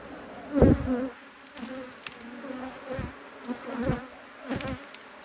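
Honey bees buzzing close by during a spring hive inspection, droning with rising and falling swells as insects pass near, over a low steady background hum.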